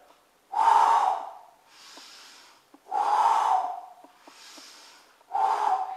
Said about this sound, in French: je vais inspirer par le nez et la bouche quand je fléchis les coudes